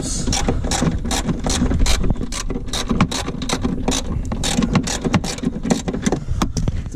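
A ratchet wrench cranks a 10 mm bolt loose on an R53 Mini during a lamp swap, giving a dense run of fast, close clicking bursts that carry on steadily throughout with no talk.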